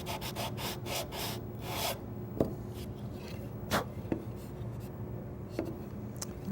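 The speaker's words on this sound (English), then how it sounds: "Do that back over the bench with a sanding block." A sanding block scrapes back and forth over a wooden groove on a bench in short, quiet, gritty strokes. A few soft knocks come through, with no one talking.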